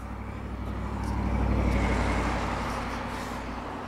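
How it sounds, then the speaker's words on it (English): A small bright yellow Nissan car drives past on the road, its engine and tyre noise swelling to a peak midway and then fading as it moves away. "There's a nice little bright yellow car."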